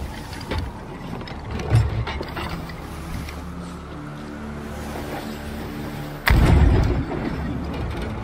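Ship cannons fire chainshot in a naval video game. A low rumbling bed of water and ship noise runs throughout, broken by a loud, deep cannon boom near the end, with a softer thud earlier.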